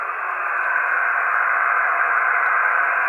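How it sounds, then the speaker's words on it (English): Steady, even static hiss from a ham radio receiver tuned to a quiet stretch of the 80 meter band, a constant broadband rush with no voices or signals, holding the same loudness throughout. "And all you hear is normal hiss."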